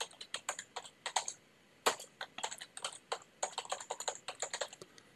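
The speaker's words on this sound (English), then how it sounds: "I typed in my name" Close, crisp clatter of fingers typing a name on a computer keyboard, quick uneven keystrokes in short runs with one brief pause, alone with no talking.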